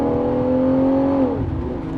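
Porsche 928 engine at full throttle in a kickdown, a steady whining drone that holds then drops as the gear shifts, heard from inside the car.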